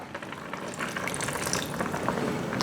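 Fish sauce trickles into simmering tilapia tom yum soup, a soft, continuous watery pour and bubbling, faint and close with no pauses.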